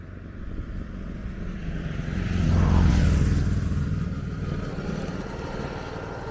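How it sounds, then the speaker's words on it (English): A motorcycle approaches on a countryside road, roars past at its loudest midway, then fades into the distance over steady road noise. "Got a motorcycle coming up here enjoying the ride."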